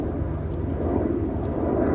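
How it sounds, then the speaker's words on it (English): A helicopter passes over the coast near Maenporth Cove in Cornwall, a steady, loud rotor-and-engine rumble that fills the whole moment without breaks. "Oh, helicopter just."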